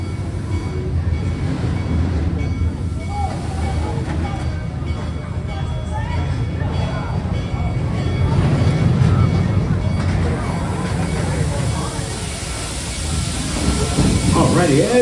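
Theme park train pulling out of a station at Busch Gardens Tampa Bay, a low rumbling and hissing roll with crowd noise, as an operator speaks throughout.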